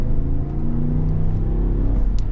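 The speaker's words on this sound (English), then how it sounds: "I should probably get an acceleration here just for video's sake with the Escalade." A 2021 Cadillac Escalade accelerating, heard from inside as a loud, steady low engine and road rumble with a faint rising whir, no voices over it.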